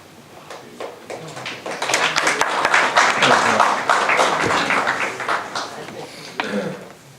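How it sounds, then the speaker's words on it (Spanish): An audience at a panel discussion on the Betancourt Doctrine bursts into sustained applause, dense clapping swelling to a peak and tapering off over several seconds, with some talk mixed in. "un gran panel, un aplauso para todos ellos"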